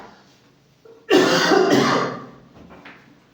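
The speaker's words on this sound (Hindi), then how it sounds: "सॉरी बच्चे, खांसी हो गया आज।" One person gives a single harsh, rasping cough and throat clear lasting about a second, close and loud against a quiet room.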